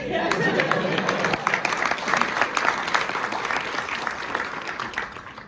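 Applause from an acting class audience, dense continuous clapping that fills the room for about five seconds and fades slightly at the end, with no one speaking over it.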